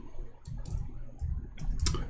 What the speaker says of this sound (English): Sorry, my keyboard sometimes is not functioning.